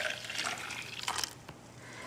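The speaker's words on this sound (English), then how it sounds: "I'm just going to pour my milk into here" Homemade almond milk poured from a container into a blender carafe, a soft liquid splashing and gurgling stream that tapers off, fairly quiet and close with no talking.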